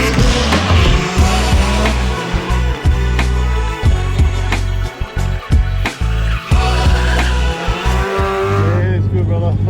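A drift car's engine revs hard as its tires squeal and skid continuously through donuts and figure eights on a drift track in Japan, loud and close, with brief gaps as the throttle lifts.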